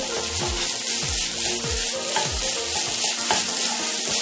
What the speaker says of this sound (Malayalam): ഇത് വെള്ളമൊക്കെ ഒന്ന് വലിയുന്നത് വരെ ഇത് നന്നായി ഒന്ന് ഇളക്കി കൊടുക്കാം.